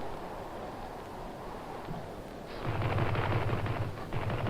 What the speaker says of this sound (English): Craft firing ahead!